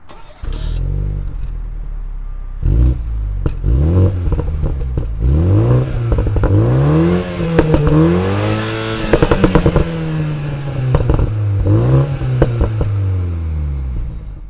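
A 2019 BMW Z4 sDrive30i roadster engine revs up and down repeatedly, loud and close, with sweeping pitch climbs and throaty roars over about fifteen seconds.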